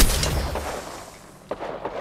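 Game combat in Apex Legends: a loud burst of gunfire and explosion blasts at the start fading into a lull, then a sharp single shot and scattered crackling near the end.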